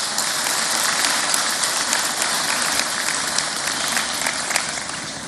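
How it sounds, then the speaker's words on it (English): Sustained applause from a conference audience in Abuja, Nigeria, a dense even patter of many hands clapping that holds steady throughout at moderate loudness, with no talk. "let's hear a round of applause for Abuja and for Nigeria for hosting this event"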